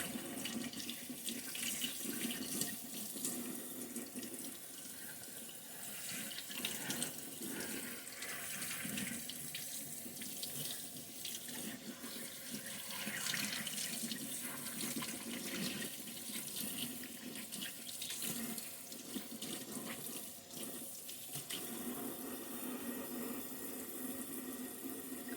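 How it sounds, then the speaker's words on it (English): Steady running cold tap water splashing into a sink, continuous and close, with faint shifting as dyed action figure clothes are moved and rinsed under the stream. "Rinse them out in cold water."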